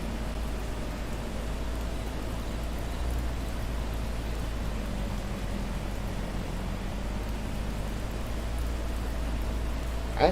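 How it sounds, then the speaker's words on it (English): Steady rain falling in Farming Simulator 22, a continuous even hiss with a low rumble underneath, holding at the same level from start to finish without any talk. "Oh, it's raining on us."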